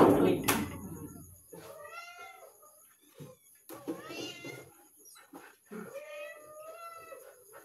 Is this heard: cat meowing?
yes